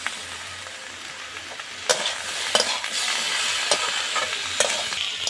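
Spices with chopped tomato, chili powder, cumin powder and salt sizzle steadily in a pan for a curry with parshe and phesa fish, potato and eggplant, with sharp scrapes of a spatula stirring every second or so; no voices.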